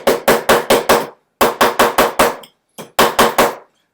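A hammer beats wire flat at close range in crisp, ringing metallic strikes that land in quick bursts of four or five, with brief pauses between the groups and no talk.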